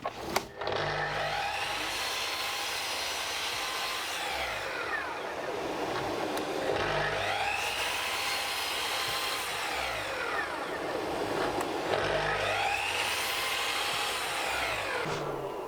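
A mitre saw cuts dado grooves in plywood, each cut a loud close whine that rises and sweeps through the wood, three passes in a row with no talk over them.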